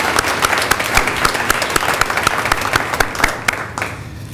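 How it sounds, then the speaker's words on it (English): An awards ceremony audience applauds in dense, sustained clapping that fills the room, holding strong before thinning toward the end. "So I think a round of applause certainly should go to them."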